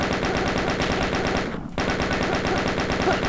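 A machine gun fires in the video game WolfenDoom as a rapid, continuous burst of loud, close shots, broken by a brief pause partway through before the fire resumes.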